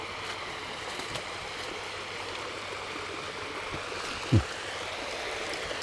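A small waterfall flowing over rocks gives a steady rushing wash of water, moderately close, with a single low thump partway through and no talk.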